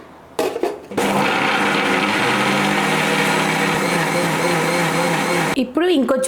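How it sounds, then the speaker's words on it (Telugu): A mixer grinder blends beetroot and curd into a paste, with a loud, steady whirring drone after a couple of short bursts. It then cuts out near the end as a voice speaks. "సో ఫస్ట్ మనము మిక్సీ జార్లో బీట్రూట్ వేసేసుకుందాం"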